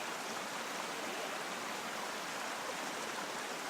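Roaring water rushing through a deep, shaded gorge north of Burgos, a steady, even broadband roar with no breaks, heard on its own.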